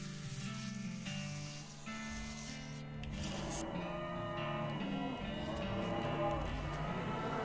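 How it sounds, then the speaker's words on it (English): Ominous cow mooing in the video game West of Loathing, several low drawn-out moos layered over a murky, faintly sizzling game soundscape, moderately loud and continuous with no talk. "You hear ominous mooing."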